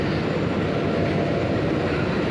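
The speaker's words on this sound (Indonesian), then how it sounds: "Menggunakan lokomotif CC206 1302 depo induk PWT atau Purwokerto ya" Jayabaya passenger train hauled by a CC206 locomotive runs on rails, heard from inside a carriage as a loud, continuous low rumble and roar of wheels on track with no talk.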